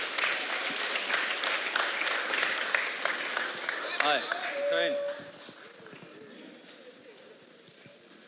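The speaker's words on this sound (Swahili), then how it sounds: "Tusimame tumpigie makofi Governor wa Mombasa anapokuja kuwahutubia" A standing crowd gives dense, loud applause to welcome the Governor of Mombasa as he comes up to speak. The clapping fills the first few seconds under a speaking voice, then dies away into quieter talk.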